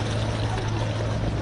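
A police water cannon sprays protesters, heard as a steady forceful rushing hiss of water with a low droning hum underneath, continuous and even throughout.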